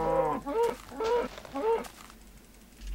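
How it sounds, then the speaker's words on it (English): A Minecraft cow gives three clear, close moos in a row, each one drawn out, followed by a short quiet spell with faint game sounds. "Be a good little cow and don't run away."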